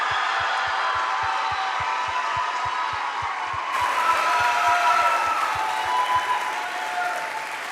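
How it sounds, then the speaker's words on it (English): Audience applause for faculty and staff at a school arts program event, sustained clapping from a room of people that swells slightly in the second half, with a steady rhythmic tapping underneath. "would you stand up, please, and take a round of applause as well."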